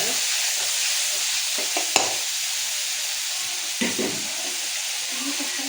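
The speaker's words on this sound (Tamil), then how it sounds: "2 ஸ்பூன் போட்டுக்கோங்க இஞ்சி பூண்டு பேஸ்ட்டு. போட்டு கொஞ்சம் நல்லா வணக்கிக்கோங்க." Ginger garlic paste sautéing in a pan as part of a ghee rice and egg roast dish, with a steady loud sizzle and frying hiss, stirred with a couple of scraping clinks of a spoon against the pan.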